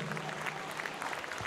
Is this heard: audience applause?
yes